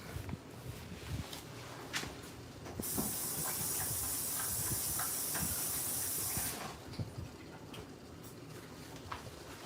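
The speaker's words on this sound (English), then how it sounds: "I'm going to rinse these off real quick" Produce rinsed under a running kitchen tap, a steady bright hiss of water lasting several seconds in the middle, with quieter handling clatter before and after.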